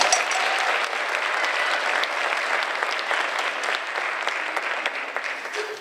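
Steady applause from a concert audience welcoming middle school musicians from several city schools, a dense continuous clapping texture holding at a fairly even level throughout with no voices over it.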